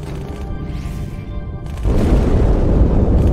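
Explosion inside the ship Athens in the video game Halo, a deep rumbling boom that suddenly swells louder partway through over an ongoing low roar, with no talking.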